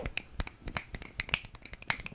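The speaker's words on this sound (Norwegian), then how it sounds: "De bare sitter og knipser?" Finger snapping: a string of sharp, crisp snaps in an uneven rhythm, close and clear with no talk over them.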